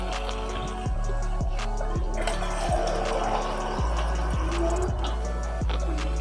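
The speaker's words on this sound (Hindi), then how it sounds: "अब इसके अंदर शामिल करेंगे पानी।" Water pours into a cooking pot for rice in a beef dum pukht dish, a steady continuous flow with small splashy gurgles over a low background hum.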